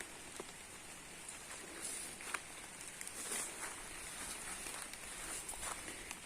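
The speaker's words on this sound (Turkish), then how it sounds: "bugün hem yağmur var hem de çok sis var" Light rain falling in a foggy chestnut forest, a soft, fine patter with scattered droplet taps and faint rustles, steady and fairly quiet, with no one talking.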